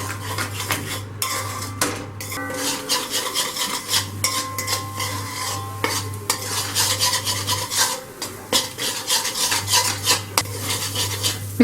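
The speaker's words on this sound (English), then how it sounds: "On low flame I'm going to scramble this." Egg scrambled in a pan over a low flame with salt and pepper, a close, busy clatter of a utensil scraping and tapping the pan with a steady low hum beneath.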